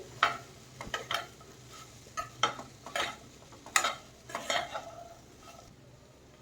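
Okra bhaji being stirred in a pan on the stove, with a spatula scraping and knocking against the metal in irregular strokes over a soft background sizzle.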